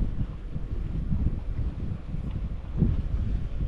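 Steady wind gusting at the shore of Lake Pontchartrain, blowing at about 8 mph from the east-northeast, a continuous low rumble across the mic with swells near the start and toward the end, no voices.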